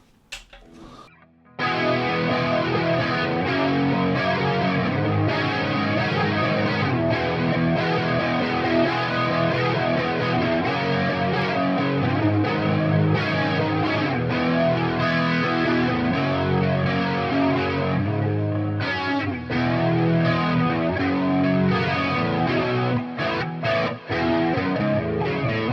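An electric guitar through a Fender Tone Master Pro on a distorted, chorus-laden lead preset plays a thick, sustained chorus section, starting after a short pause and continuing loud and dense for about 24 seconds with no talking.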